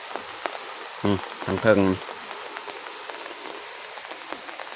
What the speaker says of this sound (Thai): เพราะว่าฝนก็มาแหละ